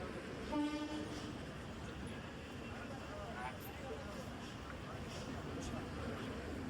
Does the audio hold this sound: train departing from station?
yes